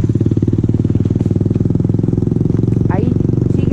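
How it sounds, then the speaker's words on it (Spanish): Motorcycle engines rumble close by in a steady, throbbing putter at a winter motorcycle rally, with a brief higher whine near the end. "Ahí siguen llegando más motos."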